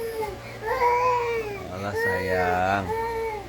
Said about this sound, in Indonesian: ada suara bayi.